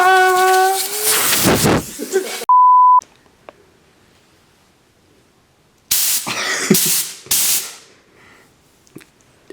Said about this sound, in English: you want to get them as clean as possible, so spray some brake clean,